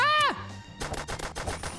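Gunfire in a Roblox game: a short rising electronic tone, then a quick run of about six sharp shots in a rapid, evenly spaced burst.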